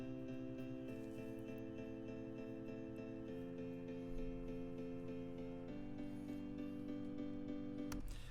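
Synthesized harmony track playing stacked sustained chords that change every second or two, dense and steady with a faint low tone underneath, moderately quiet and with no voices.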